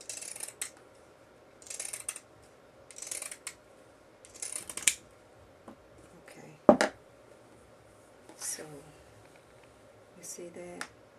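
Scissors snip through dress fabric in repeated bursts of cuts, close and crisp, with someone talking quietly between and over the snipping.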